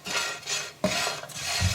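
Food being stirred in a pan while salt is added, with a spoon scraping and clinking against the pan in a few distinct strokes. The sound is fairly quiet and close, with no voices.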